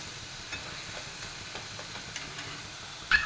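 Potato crisp slices fry in hot oil with a soft, steady sizzle, while light stirring scrapes recur as they are turned. A sharper clink comes near the end.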